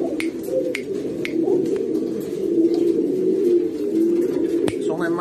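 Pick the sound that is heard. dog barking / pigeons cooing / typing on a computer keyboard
pigeons cooing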